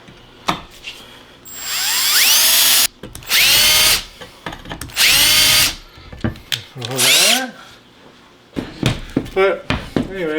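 A power drill bores stepper motor mounting holes in aluminum angle iron, several loud sustained whining bursts with rising pitch as the bit bites, separated by clanks and handling noises up close.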